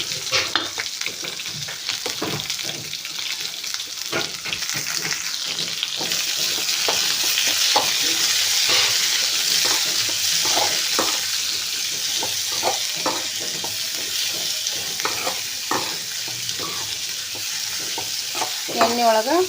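Chopped onions frying in oil after cumin, mustard seeds and curry leaves, a loud continuous sizzle with frequent clattering stirs throughout.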